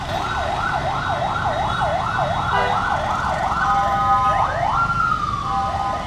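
An ambulance siren wails in a steady rising-and-falling cycle, then shifts to a quicker yelp near the end, loud and continuous over street noise as the ambulance sits stuck in traffic behind a road barricade.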